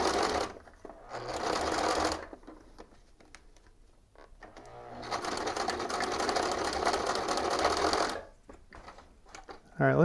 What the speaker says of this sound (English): Let's try and get this part stitched on.